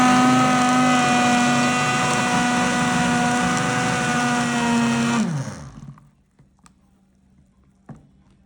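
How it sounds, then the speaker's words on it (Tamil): A blender whirs steadily, blending butters with oils for homemade soap. The loud, even motor drone winds down and stops partway through, followed by near silence and one faint knock. "நம்ம எடுத்து வச்ச இந்த பட்டர்ஸ் எல்லாம் பிளெண்டர் போட்டு பிளெண்ட் பண்ணிக்கலாம்"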